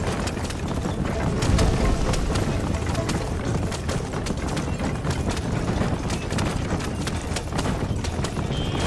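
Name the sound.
horse galloping in the video game Red Dead Redemption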